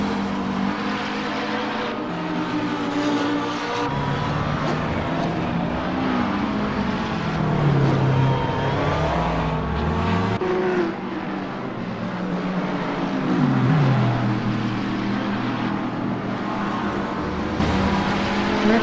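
GT3 race cars in a sim racing game lap Brands Hatch, engines droning continuously with rising and falling pitch sweeps as cars accelerate, shift and pass, several machines layered at steady loud level throughout.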